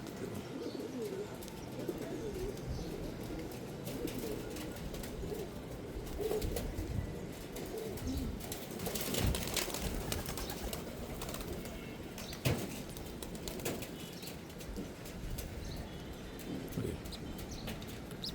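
Pigeons kept by a Bangladeshi fancier coo and shuffle in a loft, with occasional wing flaps amid a steady, dense backdrop of bird activity throughout.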